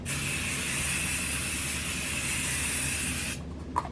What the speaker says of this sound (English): now I'm gonna set my face with the Carolina Fixing Spray